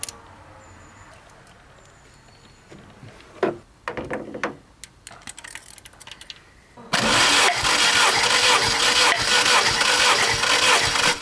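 A car engine with a history of head gasket failures cranks with a ticking, uneven churn for several seconds during a compression test, then catches and runs loudly and steadily, close up, with no talk.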